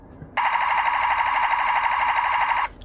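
Continuous electronic firing sound from a DX Vrocan Gatling toy with the trigger held down, a loud, steady, buzzing rattle lasting over two seconds before cutting off abruptly, with no talking.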